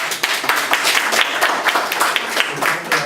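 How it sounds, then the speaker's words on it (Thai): A seminar audience at a calcium product talk claps to welcome first-time attendees, a brisk, crowded patter of many hands that carries on steadily for a few seconds, fairly loud and close. "ขอเสียงปรบมือต้อนรับด้วยนะครับ"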